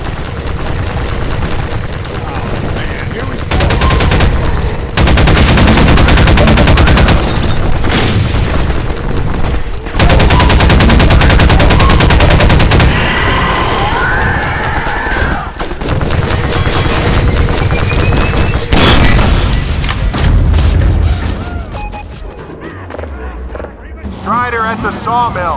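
Rapid gunfire bursts and booming impacts from the Half-Life 2 Episode 2 video game during a sawmill firefight, loud and dense with near-constant shots and blasts, with voices talking in between.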